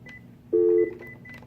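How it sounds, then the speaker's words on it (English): A button on a classroom desk telephone is pressed, giving a short, steady electronic tone of about a third of a second amid faint background hum. "Placing a call on hold, use your orange hold button."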